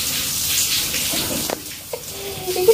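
Shower water runs in a steady hiss during a lightning storm, fading partway through, with a few faint clunks and a brief high squeak near the end.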